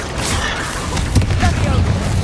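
Spell blasts from Confringo and Bombarda go off in Hogwarts Legacy, a string of booming impacts and crackling bursts over a steady game background, with a heavier thud near the middle.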